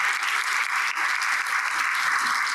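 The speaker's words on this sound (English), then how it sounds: "if you could join me in giving our panelists a big round of applause" Audience applause for panelists at a women in cybersecurity panel event, a brief, steady, fairly dense round of clapping that carries evenly with no pauses.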